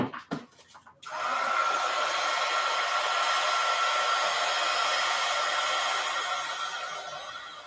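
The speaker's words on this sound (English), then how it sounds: "I'm going to try to heat this with the heat gun." Heat gun blowing hot air, switched on after a few brief clicks and then roaring in a loud, steady, close whoosh that eases slightly near the end.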